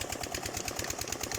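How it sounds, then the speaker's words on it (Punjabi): A Peter diesel engine, the kind used to pump sweet cold water from a village well near Pind Abdal, chugs at close range with a fast, even thumping rhythm and clattering mechanical overtones, with no voices over it. "ਲੋ ਜੀ ਪੀਟਰ ਇੰਜਨ ਦੇ ਨੇੜੇ ਅੱਪੜ ਗਏ ਹਾਂ ਅਸੀਂ"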